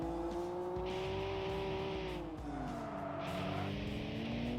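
Tuned Japanese car engine in the PS2 racing game Tokyo Xtreme Racer 3, holding a loud sustained drone that dips between gear shifts and climbs again, with no talking.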